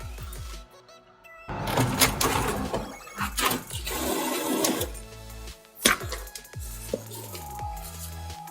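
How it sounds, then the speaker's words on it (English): An HP DeskJet 2135 inkjet printer feeding and printing a page nearby, with whirring motor runs, clicks and shuttling mechanical bursts that stop and start in uneven steps over several seconds. "we just printed out this copy"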